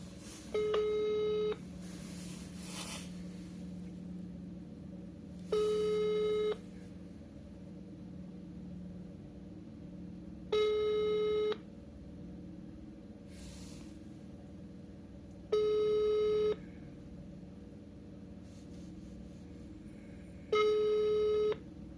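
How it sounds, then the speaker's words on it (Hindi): An outgoing phone call rings back with five evenly spaced tone bursts, each about a second long and roughly five seconds apart, sounding moderately loud over a low steady background hum with no voices. "कॉल जा रहा है।"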